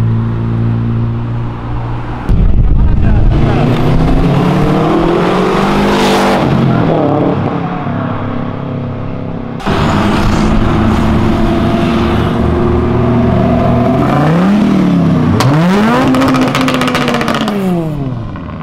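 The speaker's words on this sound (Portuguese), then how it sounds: "vocês acabaram de ver um carro extremamente veloz e esportivo" A fast sports car accelerates hard along a track, its loud engine roaring up through the gears with sweeping pitch rises, cutting off and surging again with a near pass, and no voices.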